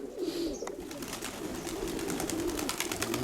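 Pigeons, including a young pigeon, coo and call over steady ambient background noise, with soft repeated calls spread through the scene and no speech.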